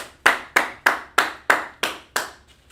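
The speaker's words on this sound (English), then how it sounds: "So clap it up for Sister Adrian." Seven crisp hand claps in a steady, evenly spaced rhythm, close and fairly loud, from an audience clapping in unison for Sister Adrian. The claps stand alone with no talking.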